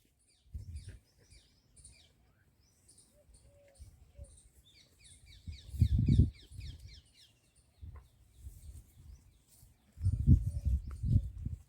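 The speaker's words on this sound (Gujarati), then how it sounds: "અલગ અલગ પક્ષીના અવાજ ડુંગરો છે અમારે અહીં પડખે ડુંગરો છે" Small birds twitter and chirp in quick high bursts on a farm beside hills, while lower clucking from fowl and occasional deeper rumbles come and go underneath.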